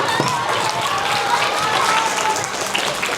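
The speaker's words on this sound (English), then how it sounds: "save the clapping till the end." An audience at a science show breaks into dense, continuous clapping that fills the room, with a voice talking over the applause throughout.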